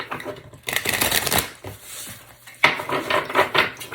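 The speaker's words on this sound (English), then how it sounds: "Let's go ahead and shuffle." Tarot cards being shuffled by hand, a dense riffling and rubbing patter in bursts with a short pause near the middle, close and fairly loud with no talk.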